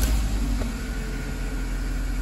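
A VW Polo 6N2 engine runs with loose bolts between the exhaust manifold and a new catalytic converter, giving a steady, loud, close idle drone with a continuous rough rumble.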